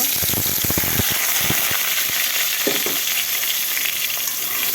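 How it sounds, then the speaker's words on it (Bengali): Soya chunks fry in hot oil in a kadai, giving a loud, steady sizzle and crackle throughout, with a few sharp pops and clinks near the start. "কড়াই দিয়ে দিয়েছি তেল এখন সয়াবিন ভেজে নিব"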